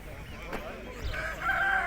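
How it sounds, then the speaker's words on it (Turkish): A village rooster at a poultry market in Sungurlu crows once, rising into a loud drawn-out call in the second half. It sits over a busy background of market murmur and low rumble. "Böyle köy horozları var."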